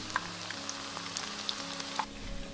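Shrimp cake batter deep-frying in oil on a stove burner set to 7 of 9 gives a soft, steady sizzle with scattered small pops and crackles, with no talking.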